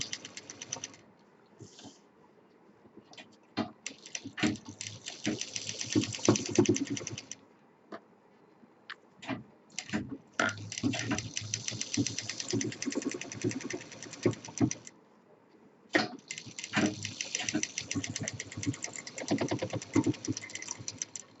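A sewing machine stitches the second side of a handmade fabric bag in bursts, rapid close clattering runs broken by short pauses as the cloth is repositioned, with no talking.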